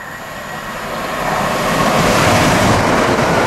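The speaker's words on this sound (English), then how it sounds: "train's coming in." A London Midland train approaches Bushey station, its rumble and rolling hum growing louder and closer over a few seconds until it is loud and steady.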